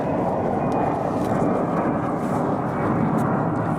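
Airplane passing overhead near an international airport, giving a loud, steady broadband roar heard from inside a 2017 Corvette Grand Sport with no speech over it.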